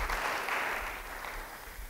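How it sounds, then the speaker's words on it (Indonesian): A church congregation gives a short burst of applause that sounds muffled and somewhat distant, with a low rumble underneath, lasting under two seconds without any clear speech. "Yang mau beri tepuk tangan bagi dia."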